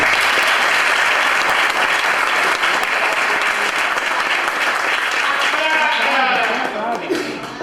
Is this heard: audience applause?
yes